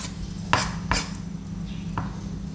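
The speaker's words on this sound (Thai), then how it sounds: "หลังจากที่ล้างทำความสะอาดหอยเรียบร้อยแล้วนะคะ นี่ก็มาหั่นชิ้นนะคะ" Knife chopping cleaned apple snails into pieces on a board, with three or four distinct sharp chops spaced apart over a steady low background hum.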